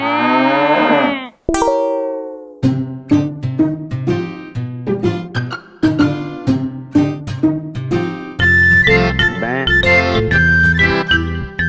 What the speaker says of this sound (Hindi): मतलब ऐसे तो भैंस बोलती है ना, बफेलो